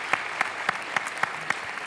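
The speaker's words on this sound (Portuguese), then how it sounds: "Quero primeiro desejar uma salva de palmas à Ana e à Maria" An audience at a success conference claps in steady, evenly spaced beats, a moderately loud and rhythmic round of applause with no talk over it.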